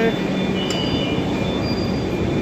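A Kolkata metro train carriage between Kavi Subhash and Ruby hums with a low, steady rumble and a thin, sustained tonal whine, heard from inside.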